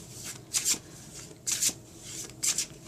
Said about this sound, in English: I'm just going to give it another quick shuffle just like this